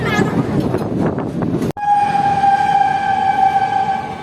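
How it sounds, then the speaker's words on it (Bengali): A Kanchanjunga Express train with ICF coaches rumbles nearby under a voice, then a loud, sustained tonal train horn takes over and holds steady to the end. "এটা হচ্ছে কাঞ্চনজঙ্ঘা এক্সপ্রেসের আইসিএফ কোচ"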